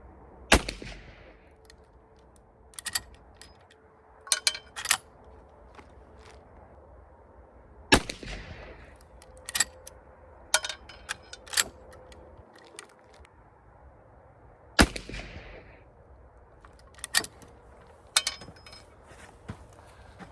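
Rifle shots fired at a 25-yard target at an outdoor range ring out loud and sharp, three widely spaced main blasts with smaller clicks and handling noises between them.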